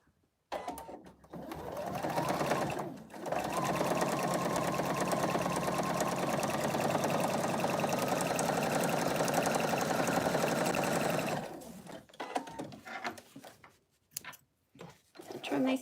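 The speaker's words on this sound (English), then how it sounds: "I'm going to do a little stitch right across the top." A sewing machine runs a long, continuous straight stitch across fabric for a Christmas stocking ornament, a loud steady whir ending in a few short bursts and handling noises, with someone speaking around it.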